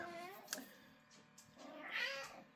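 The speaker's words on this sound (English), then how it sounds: "My cat's bugging me." A cat meows close by indoors, with a few drawn-out, moderately quiet cries and no talking over them.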